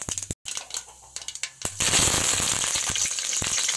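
Mustard seeds dropped into hot oil in a village kitchen, a few quiet crackles followed by a sudden loud, dense sizzle with sharp popping bursts, no voices.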